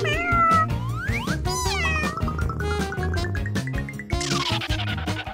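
A cat meows repeatedly and loudly up close, with rising and falling drawn-out cries, some sounding like caterwauling, mixed with a few thuds and scattered noises.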